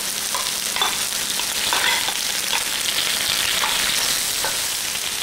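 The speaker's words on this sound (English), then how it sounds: "Now we're going to cook the turkey for 1 minute." Leftover turkey and softened carrot slices fry in a pan, giving a constant close hiss of sizzling with occasional light stirring clicks and nothing else over it.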